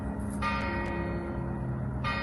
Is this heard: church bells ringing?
yes